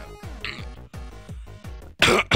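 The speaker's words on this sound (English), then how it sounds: "Sorry guys, I'm coughing a lot." A run of short, throaty coughs and throat clearing from one person close to the mic, five or six rough bursts in quick succession ending in a louder, breathier hack.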